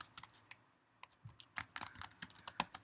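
An email address is typed on a computer keyboard as a quick, irregular run of close, crisp key clicks and taps.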